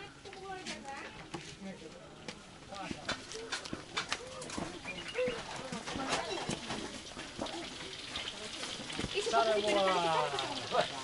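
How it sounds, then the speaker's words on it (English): Pigeons or doves coo softly in the background of a busy outdoor scene in a Baduy village, faint repeated calls under nearby talk and ambient noise. "Birds, so they have a lot."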